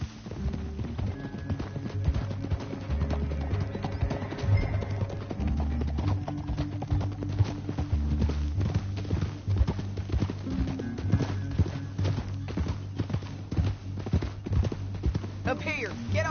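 Video game horses' hooves clop in a steady trotting rhythm beneath ongoing talk and a low musical drone, with occasional snorts.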